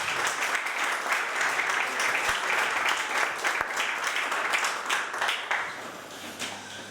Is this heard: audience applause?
yes